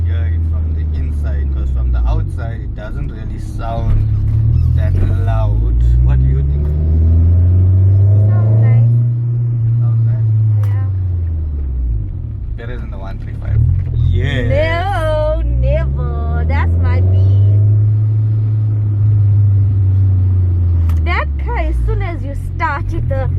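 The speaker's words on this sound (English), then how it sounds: "we put the stack on. I like how it sounds, very loud." Loud Honda VTEC car engine fitted with an exhaust stack, heard from inside the cabin, rising and falling through two long revving pulls with a deep droning rumble, while people talk over it.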